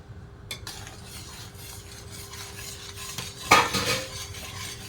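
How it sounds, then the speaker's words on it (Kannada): A spoon stirs a sweet rice mixture in a pan over a low flame, making soft scraping and a few louder clinks of metal against the pan amid a quiet, steady background. "ಸಣ್ಣ ಉರಿಯಲ್ಲಿ ಇದನ್ನು ಮಿಕ್ಸ್ ಮಾಡ್ತಾ ಇದ್ದೀನಿ"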